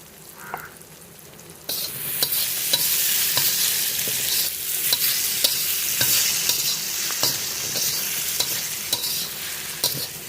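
Cut potatoes sizzle loudly as they are stir-fried with spices in a hot pan, under a continuous close hiss broken by regular scrapes and taps of the spatula.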